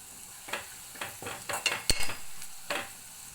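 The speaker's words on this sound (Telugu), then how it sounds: "కాకరకాయ ముక్కలన్నీ వేసేసి బాగా కలపండి" Bitter gourd pieces with coriander powder, curry leaves and turmeric are stirred in a pan, a spatula giving quick repeated scrapes over a quiet sizzle, close and clear with no talk.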